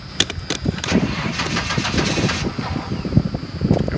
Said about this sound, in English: Wants to start, but it's not gonna, because I have a feeling the fuel pump is bad.